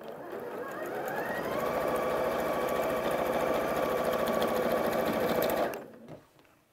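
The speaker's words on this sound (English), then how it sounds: "And just start chain piecing these together." A sewing machine runs steadily for about five and a half seconds while chain piecing curved quilt blocks with a quarter-inch seam, its fast rhythmic stitching close and loud before it stops abruptly, leaving faint handling noise.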